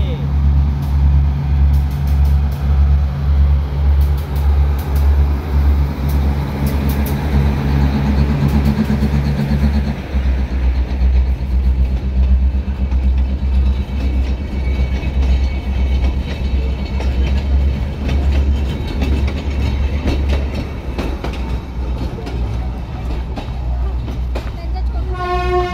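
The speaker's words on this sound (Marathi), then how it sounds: "ट्रेन आलेली आहे." Matheran toy train rolling past nearby, a steady loud rumble of wheels and wagons with short horn toots, people talking over it as it passes.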